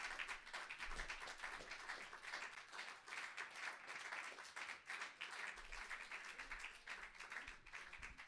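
Audience at a slam poetry stage night in Liège clapping, a soft, distant-sounding but continuous patter of many hands with gentle swells, with no talk over it.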